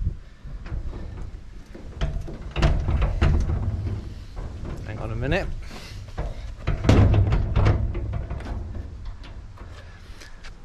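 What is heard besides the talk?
garage door being forced open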